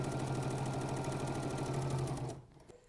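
A Bernina sewing machine sews an open zigzag stitch on chalk cloth with a fast, even mechanical whir and rhythmic needle chatter. It runs steadily for over two seconds, then stops abruptly.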